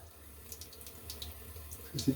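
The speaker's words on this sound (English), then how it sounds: "I'm just gonna put a little bit of water on the soap" Water trickling and splashing onto a puck of shaving soap during a safety razor shave, soft and close with a brief louder splash near the end.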